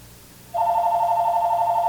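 A landline house phone starts ringing after a quiet moment, giving a loud, continuous electronic ring that holds steady with no talk over it.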